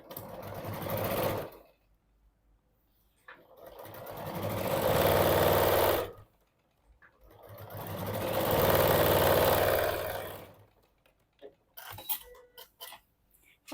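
A sewing machine topstitches a quilted boxed pouch in three long, loud, steady runs, each about two to four seconds, separated by near silence, followed by a few soft handling taps.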